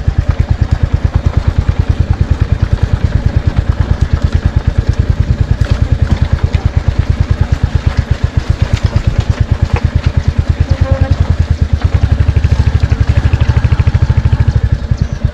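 Royal Enfield Hunter 350 motorcycle ridden off-road on badly broken rural tracks, its single-cylinder engine thumping steadily and loud up close, with rattling clatter and no voices.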